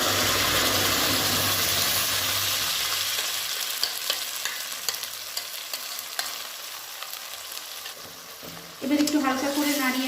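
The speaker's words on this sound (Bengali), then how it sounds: "এবার এর মধ্যে আমি মিক্স করে রাখা পালং শাকগুলো দিয়ে দেবো।" Spinach hits a pan of sizzling fried onion, ginger, garlic and green chilies, a steady loud frying hiss with stirring scrapes that drops briefly, then flares into a sharper, louder sizzle near the end.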